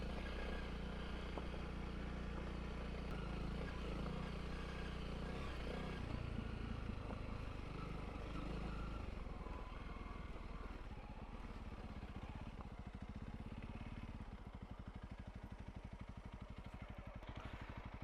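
Honda CRF300L motorcycle ridden along rural Suffolk tracks on a warm day, its engine droning steadily and close with a low rumble throughout, becoming more pulsing and throbbing toward the end.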